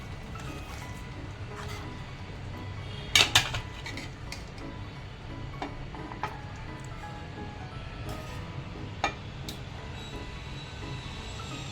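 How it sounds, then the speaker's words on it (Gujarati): Food being served from a cooking pot onto a serving plate at a village-style meal, soft clinks and scrapes of dishes and utensils with a few sharper taps, fairly quiet. "સર્વિસ પ્લેટમાં આપણે કાઢી નાખીએ"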